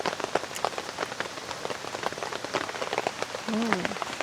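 Heavy rain drums steadily on a small tent during a solo downpour camp, dense pattering drops close overhead throughout, with a brief faint voice-like murmur near the end.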